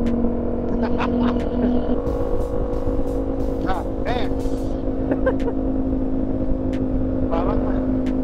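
Ducati Multistrada V4S motorcycle engine droning steadily at freeway speed, a close continuous roar with wind rush and a few rising revs, a voice talking over it throughout.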